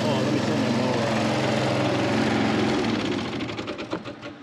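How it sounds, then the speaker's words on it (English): An Allett RM34 stadium reel mower runs loud and close with a dense buzzing engine drone that steadies, then breaks into pulsing, fading rattles near the end. "let me turn my mower on"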